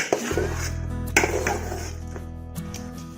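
Jackfruit and masala stirred together in a pot for a Kerala-style steamed jackfruit dish, with a spoon clanking sharply against the metal pot a few times over a low, steady background hum.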